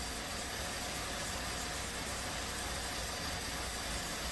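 A 2016 VW 1.8 TSFI engine idles rough and rich, misfiring on cylinder four, heard as a steady, quiet, even drone with no voices.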